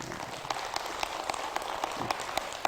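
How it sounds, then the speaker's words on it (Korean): Audience applause at a customer-service business lecture, a steady, moderately loud crackle of many hands clapping with occasional sharper individual claps, no talking over it. "동의하시면 박수 한번 해주시죠."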